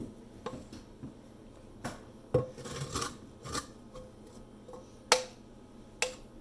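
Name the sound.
scraping cooked playdough out of a pan onto a counter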